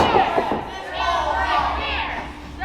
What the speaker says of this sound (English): you can hear this Richmond crowd's not only shock